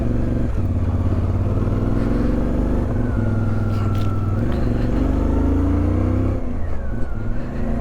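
A motorcycle on a Pamir Highway ride struggles to shift into third gear. The engine drones loud and close throughout, rising and falling in pitch as the rider works the gears.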